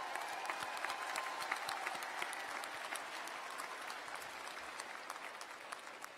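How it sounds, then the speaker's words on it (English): An audience at an evening undergraduate commencement ceremony claps for about six seconds, a dense sustained ovation with distinct individual hand claps standing out, fading slightly toward the end. "I think that deserves a round of applause."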